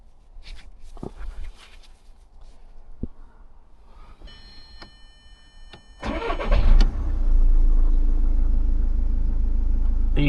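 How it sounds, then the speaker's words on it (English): An automatic Audi A3 with about 88,000 miles is started after some quiet clicks and handling sounds. The engine cranks briefly, catches with a loud surge and then settles into a steady, close idle rumble. "we also will check now the sound of the engine"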